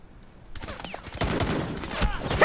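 Gunfire in the video game Rainbow Six Siege: a dense burst of rapid shots starts about half a second in and keeps building, loud and close, with game voices faintly mixed in.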